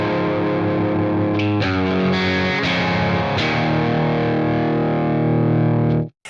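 A Telecaster electric guitar plays a loud, distorted rhythm riff, with chords chopping and ringing before cutting off abruptly.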